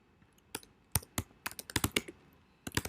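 Someone types on a computer keyboard while setting up an online store: sharp, close clicks arrive in an uneven rhythm, sparse at first, then a quick cluster of keystrokes, then a pause before a few final taps.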